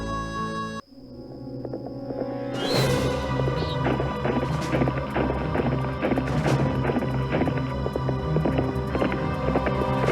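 A phantom horse gallops in a Nancy Drew ranch mystery game, rapid rhythmic hoofbeats that start after a short pause and continue loudly over a dense, steady game soundscape.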